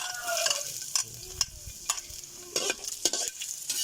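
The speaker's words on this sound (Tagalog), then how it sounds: "Bawang, hinahalo po siya ng kutsarita." Garlic fries in a small pan while a teaspoon stirs it, giving sharp metallic clinks and scrapes at an irregular pace over a soft, quiet sizzle, heard close up with no talking.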